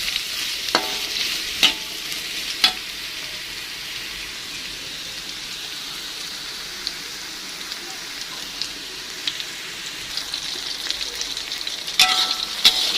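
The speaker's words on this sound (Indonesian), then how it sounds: "ini terongnya kita goreng cukup setengah matang aja ya" Halved purple eggplant crackles and sizzles in a modest amount of hot oil in a pan, with a steady frying hiss and a few sharp scrapes as it is stirred.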